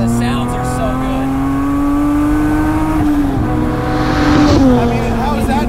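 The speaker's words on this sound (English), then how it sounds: "how is that not one of the best sounding V6s?" A car engine revs up close, its pitch climbing steadily then dipping on a shift before pulling again, loud and sustained.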